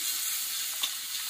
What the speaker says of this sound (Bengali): তারপরে কালো সরষা একটু ফোড়ন দিয়ে দিলাম। মানে গরম হয়ে গেছে অনেক।